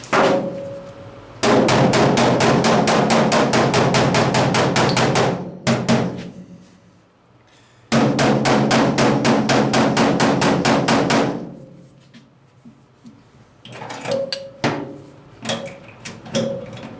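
Rapid, loud hammer blows ringing on a warped sheet metal side panel of a 1968 VW double cab pickup in two long steady runs, followed by slower, scattered strikes with pauses.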